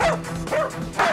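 Several dogs bark and yip loudly in quick bursts, sent to wake sleeping chefs at the Hell's Kitchen dormitory, with repeated sharp yaps close by and no one talking.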